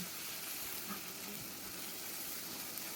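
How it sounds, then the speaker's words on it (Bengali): Mustard paste and green chilli paste stir-fry in hot oil with a steady, dense sizzle that hisses evenly throughout, close and continuous with no voices. "দেওয়ার পরে সরষা বাটা আর কাঁচা লঙ্কা বাটাটা দিয়ে দিলাম। ভালো করে নেড়ে কষিয়ে নেব।"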